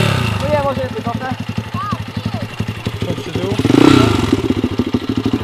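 A motor scooter rides across grass, its engine chugging in a fast, steady pulse up close and swelling into a louder rev near the end, while a voice talks over it.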